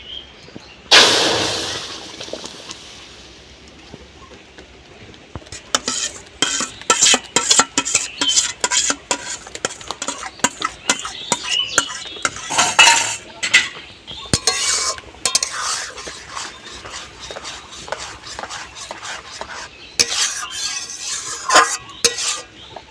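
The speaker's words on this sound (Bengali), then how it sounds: "ছেঁকে রাখা টমেটো পেস্ট এবার কড়াইতে দিয়ে দেবো" A burst of sizzling as strained tomato paste hits a hot wok, followed by steady stirring and utensils scraping and clinking against metal, close and fairly loud.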